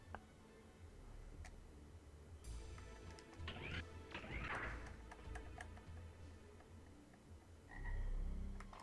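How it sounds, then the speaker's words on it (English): Frogs croak in a swampy level of the video game Mega Man Legends 2, set over a busy game soundscape of ticks and clanks. The croaks are moderately loud and come in irregular bursts, with a louder thud near the end. "you can hear the frogs the instant you get off the elevator"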